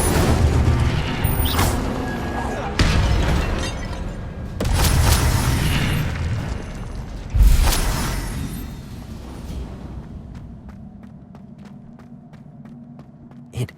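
The Incendio fire spell is cast repeatedly in Hogwarts Legacy, giving several heavy whooshing bursts and booms with rumbling tails. Near the end a quieter stretch has faint footsteps or clicks, and a final sharp hit.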